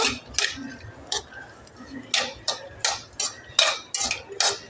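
A spoon scraping and tapping against a pan while cashews fry in ghee for dry fruit laddu, a series of distinct metallic clinks at an irregular rhythm, close and clear, with little else around them.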